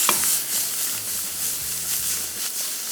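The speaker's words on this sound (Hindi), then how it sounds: "और उसी पैन में इसमें फ्राई कर रहा हूँ जिसमें अंडा फ्राई हुआ था" Mushrooms frying in a pan used before for an egg, giving a steady soft sizzle with light stirring scrapes, close and continuous with no talk.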